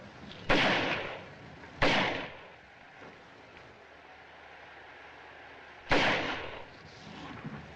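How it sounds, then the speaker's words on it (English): Gunfire in a 1942 crime film shootout: three sharp, loud reports, two close together and one after a pause, each trailing off into a quiet background. "Keep shooting!"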